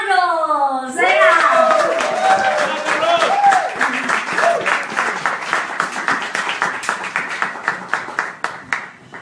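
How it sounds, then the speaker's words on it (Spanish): Audience applauding a finalist at an urban talent show, a loud, close burst of clapping and cheering that follows a voice and gradually settles into slower, rhythmic claps. "que me acompañen con un muy fuerte aplauso para recibir al primer finalista de Talento Urbano de la Noche"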